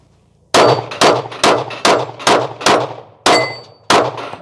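A Glock 45 fired at steel targets from 12 yards, eight sharp, loud shots in a quick, fairly even sequence, each followed by a ringing clang of steel that fades before the next.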